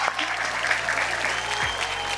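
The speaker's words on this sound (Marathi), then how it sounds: "एकदा जोरदार टाळ्या झाल्या पाहिजे" Loud, steady audience applause on a Marathi television show stage, a continuous wash of clapping from a large crowd that lasts throughout.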